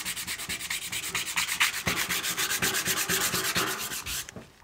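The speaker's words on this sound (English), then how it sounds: "once you start rubbing it with sandpaper, it starts looking good" Sandpaper rubs the wood of an old table in steady, quick back-and-forth strokes, close and evenly paced, with no talking over the scraping.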